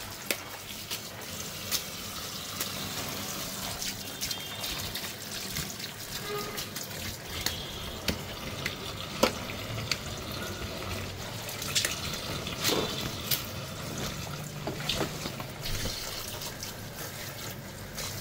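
Taro leaves from a rooftop garden being washed by hand, with continuous soft splashing, trickling and sloshing of water in a basin and occasional louder splashes, fairly quiet and close.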